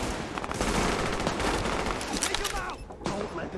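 Sustained heavy gunfire in the video game The Division, dense overlapping volleys of rifle and automatic shots forming a loud continuous fusillade, with a voice speaking over it near the end.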